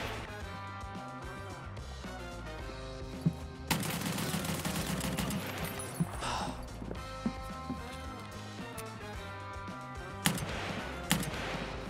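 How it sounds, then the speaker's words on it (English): Gunfire in Escape from Tarkov, with several sharp bursts and single shots, some loud and close, others more distant, set against ongoing in-game ambience and music. "Just kind of waiting for him to stop shooting."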